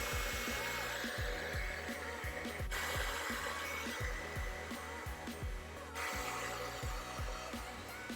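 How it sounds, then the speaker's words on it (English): A handheld hair blow dryer running on its cool setting, used to dry eyebrow glue: a steady, close, whooshing airflow with a motor whine and small fluctuations in pitch, alone with no speech. "I'm going to be using a blow dryer and use it on the cool setting"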